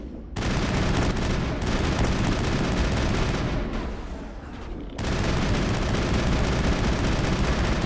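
Sustained gunfire in the video game Mass Effect on the Virmire mission, a loud, dense barrage running nearly the whole time with a brief dip before resuming at full intensity.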